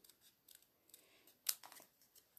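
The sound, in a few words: cutting paper roughly with scissors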